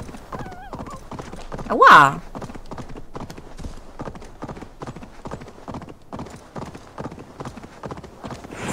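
A horse gallops in the video game Assassin's Creed Valhalla, its rapid rhythmic hoofbeats running steadily throughout, with a loud whinny early on and a brief spoken exclamation.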